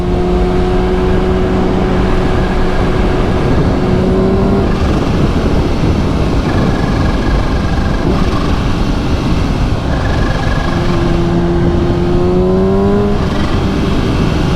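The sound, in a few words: supercharged Kawasaki Ninja H2 motorcycle engine accelerating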